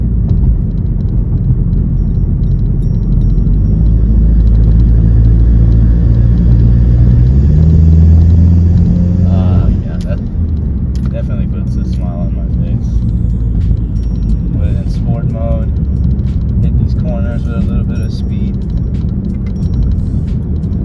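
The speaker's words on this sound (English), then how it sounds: "you can hear that induction noise from that air intake" A 2020 Volkswagen Golf GTI engine's deep, throaty intake rumble, loud and close, rising in pitch as it revs, then settling into a steady drone with a voice over it.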